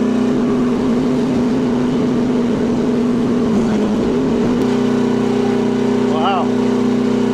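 Small engine on a cheap mini excavator droning loudly and steadily as the throttle comes up, its pitch wavering and then settling higher partway through, with a brief faint voice over the noise.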